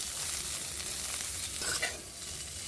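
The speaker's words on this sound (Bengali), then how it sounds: "ফুলকপিগুলোকে একটু টাইম দিয়েই ভেজে নিচ্ছি" Cauliflower pieces fry in hot oil in a covered pan, a close, steady sizzle with soft stirring rustles and a brief scrape near the end, no voices.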